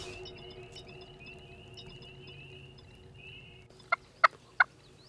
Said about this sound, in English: One just gobbled over here.